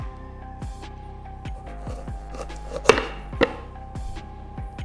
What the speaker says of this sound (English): So let me slice the garnish.